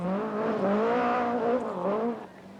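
A rally car engine on a stage of the 1983 Portugal Rally drones close by, its tone rising and falling as the driver revs and shifts, then fading slightly at the end.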